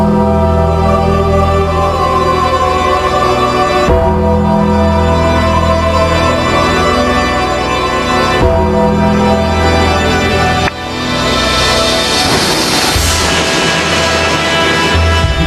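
A wrestling entrance theme plays loud and full, a sustained musical piece with a few abrupt section changes and no talk over it.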